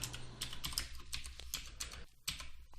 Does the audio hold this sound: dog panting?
no